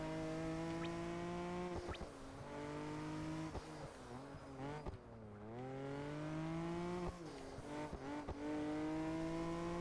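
A McLaren F1 supercar in the racing game Project Gotham Racing 4 screams through the gears, its engine note climbing steadily and dropping at each shift, with a brief lift and re-acceleration, loud and close throughout.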